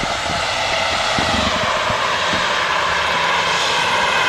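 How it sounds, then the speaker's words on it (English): An EasyJet Airbus A320 from Copenhagen coming in to land at Manchester Airport, its engines a steady, loud, broadband roar held throughout, with no voices. "EasyJet next to land by the looks of it."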